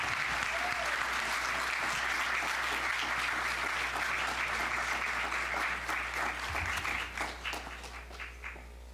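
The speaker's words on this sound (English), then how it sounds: "Another round of applause for Miss Laura" Sustained applause from a room at a school board of education meeting honoring a teacher, a steady roar of many hands clapping over a low hum, thinning into scattered claps and fading toward the end.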